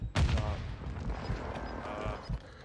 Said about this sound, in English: I hear pistols